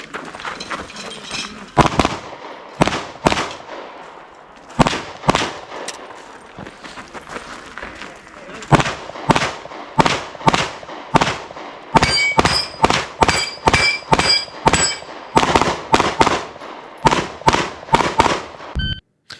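Rapid, loud gunshots ring out at a practical shooting match stage, fired in quick strings and pairs with short pauses as the shooter engages a no-shoot, a plate rack and stacked paper targets, some shots followed by metallic clangs of steel.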